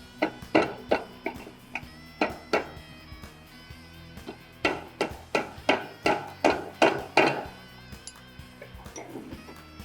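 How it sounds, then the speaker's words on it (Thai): A plastic hammer taps on the right-side cover of a motorcycle gearbox, giving a steady series of sharp, close knocks in two bursts, about a dozen blows with a brief pause between groups, and no talking. "ใช้ค้อนพลาสติกนะครับ ตอกนะครับ"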